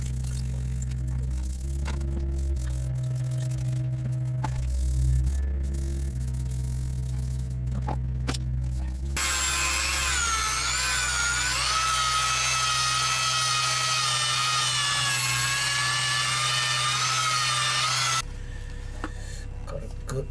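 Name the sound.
sanding a repaired plastic truck step skirt with sandpaper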